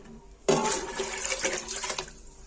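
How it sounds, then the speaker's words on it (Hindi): Water gushes into a pressure cooker of black chana with ginger-garlic paste, a sudden splashing pour that runs about a second and a half before stopping abruptly. "जितना हमें पानी चाहिए उतना ऐड कर देंगे"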